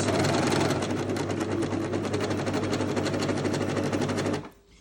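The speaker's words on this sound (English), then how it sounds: "we're back around to the start of our stitching" A sewing machine stitches a swimsuit bikini bottom in a fast, continuous rattling run of needle strokes, close and clear, then stops abruptly near the end.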